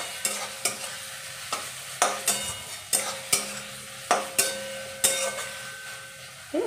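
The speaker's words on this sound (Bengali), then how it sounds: "এটা ততক্ষণ এই পেঁয়াজটা ভাজা ভাজা হোক।" Onions frying in a pan for a home-cooked chicken dish, a steady close sizzle broken by a regular series of sharp scraping stirs from a spatula, with no talk.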